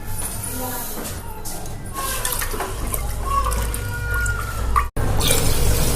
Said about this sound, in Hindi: चावल अभी धो के मैं फिर से पानी डाल के रखा